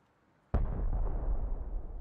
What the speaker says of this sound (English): Oh, yeah. Shotgun trap.